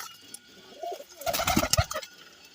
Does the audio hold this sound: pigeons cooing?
yes